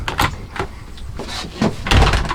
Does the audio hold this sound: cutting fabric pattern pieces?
no